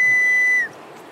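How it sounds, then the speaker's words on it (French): A game character in Open Country gives a single clean, loud whistle held steady for about half a second before cutting off, leaving only quiet background hiss. "J'ai fait mon sifflet."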